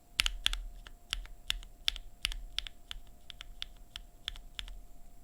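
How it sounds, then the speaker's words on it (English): Mechanical keyboard with stock linear Queen switches being typed on, a quick run of crisp, close clacks at an uneven rhythm, alone without talk. "Queen switches, they're linear."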